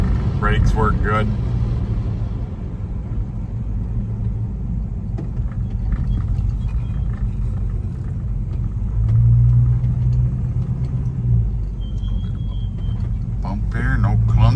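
A 1970 Chevrolet El Camino with a 350 engine and turbo transmission drives along, its low engine rumble and road noise steady throughout while someone talks over it.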